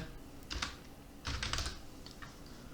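Typing on a computer keyboard to search for Etcher, two or three short clusters of quick, light key clicks separated by pauses, close and quiet over a faint background hum.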